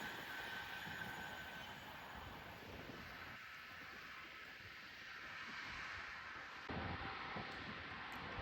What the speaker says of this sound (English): Soon to come charging our way through now will be Adventure West Coast service going from Manchester Piccadilly to London Euston.